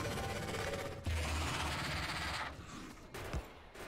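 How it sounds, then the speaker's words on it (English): Rapid, dense turret gunfire bursts in the video game Factorio, aimed at a worm, loud and continuous with chattering shots throughout, easing slightly toward the end. "I'm shooting at the worm specifically."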